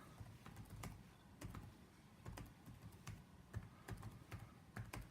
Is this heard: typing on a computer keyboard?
yes